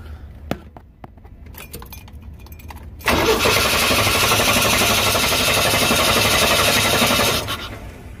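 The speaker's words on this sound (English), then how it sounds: "gonna see if I can get it to crank over without starting" A Chevy engine with throttle body injection cranks without catching: a few faint clicks, then a loud, steady churning drone that runs about four seconds and cuts off without firing.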